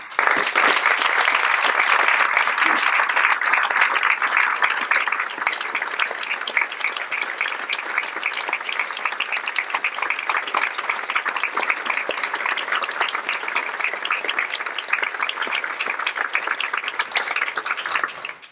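Sustained audience applause greeting Arun Gandhi as he takes the stage at a speaker-series event, a dense, steady clapping from a large crowd lasting throughout without letting up.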